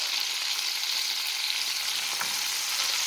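Squirrel meat sizzles in a pan, giving a steady, loud, continuous hiss of frying fat that never pauses, with no voices.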